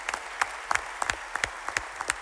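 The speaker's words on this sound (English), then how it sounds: "Let's give this whole group a round of applause." Applause in the Texas House chamber for the Sam Houston State Bearkats team, a sparse, somewhat distant patter of claps with occasional distinct louder slaps, brief and even.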